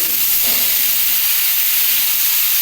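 Beans and green banana fry in plenty of oil, giving a loud steady hiss and sizzle that fills the whole stretch, close and unbroken.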